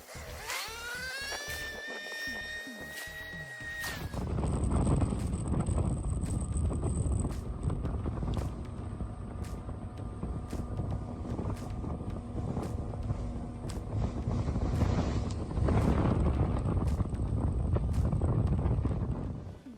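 A boat motors across open water around coastal islands off the Coromandel, New Zealand, its engine a steady low rumble under broad wind and water rush, after a brief burst of higher whirring at the start.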